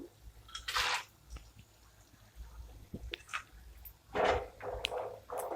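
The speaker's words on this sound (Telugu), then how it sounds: "పల్లీలు వేయించుకుందాం బాగా ఆడుతున్నాయి" Peanuts fry and jump in a hot pan of oil for a homemade mixture snack, with soft sizzling and occasional pops and rattles in a few louder bursts, close by and without speech.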